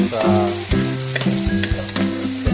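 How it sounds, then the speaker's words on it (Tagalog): Ground meat sautéing in a pan for lumpia with hearts of palm (ubod ng niyog), a steady sizzle with stirring clatter, close and fairly loud, no voices. "Ito nagigisa ng giniling para sa lumpia na bubod ng nyug"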